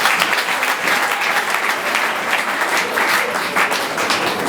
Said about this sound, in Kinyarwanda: Umukomera amashyi menshi.